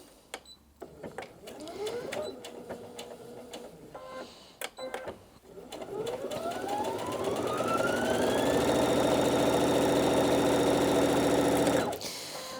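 A Brother Innov-is NV2700 sewing and embroidery machine runs a line of stitching, whirring up in speed and holding a steady mechanical hum for several seconds, with clicks and short bursts beforehand and an abrupt stop near the end.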